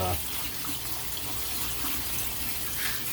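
Tap water runs steadily into a sink to rinse and cool freshly cooked pasta for a macaroni salad, a constant close hiss and splash with no voices.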